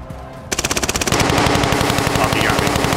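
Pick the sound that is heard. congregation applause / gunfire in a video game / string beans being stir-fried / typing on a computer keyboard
gunfire in a video game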